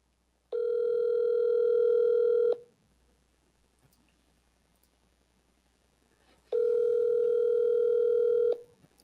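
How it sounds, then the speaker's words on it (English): A telephone line in a comedy podcast setting gives two long, steady electronic tones a few seconds apart, each sounding alone with a near-silent gap between them and no talking. "I have a phone call I need to make."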